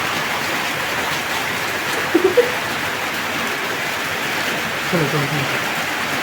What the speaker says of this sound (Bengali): নতুন বৃষ্টিতে ভিজছে